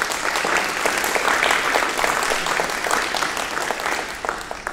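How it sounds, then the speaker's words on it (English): Steady audience applause at an art talk in Houston, dense clapping at an even level from start to finish with no speech on top. "I think that deserves another round of applause."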